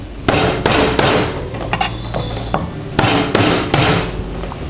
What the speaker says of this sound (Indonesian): Untuk lengkuasnya ini nggak aku haluskan, cukup aku keprek aja kayak gini.